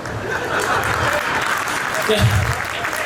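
Audience applause at a Durga Puja comedy performance, loud sustained clapping from a crowd with a faint voice and murmur mixed in near the end.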